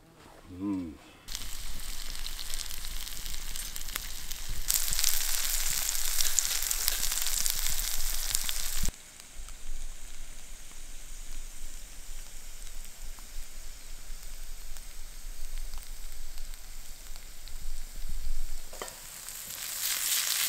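Vegetables with garlic frying in a pan outdoors in a forest, a loud, steady close sizzle that swells when more food goes in, with brief talk near the start.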